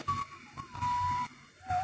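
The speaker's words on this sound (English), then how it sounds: "You can now hear a person whistling." Inside the mobile game Frequency Missing, a person whistles a few short, thin sustained notes, fairly faint and alone.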